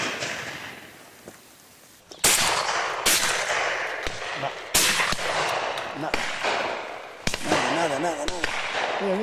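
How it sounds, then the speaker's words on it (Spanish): Repeated sharp gunshots from a driven big-game hunt in Berrocalejo, Spain, several spaced blasts at varying distances, over outdoor ambience with people talking intermittently. "continúan oyéndose disparos en casi todas las posturas"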